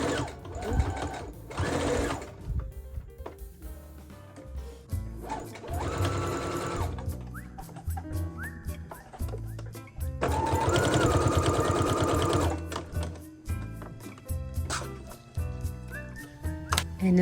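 Sewing machine stitching fabric pieces for a beginner project, running in several bursts of rapid, steady stitching separated by pauses with small handling clicks; close and fairly loud, no talking.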